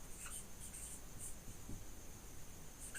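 A pen scratches across paper during a math lesson, faint continuous scribbling strokes close by over a steady room hiss.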